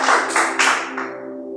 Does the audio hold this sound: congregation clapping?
yes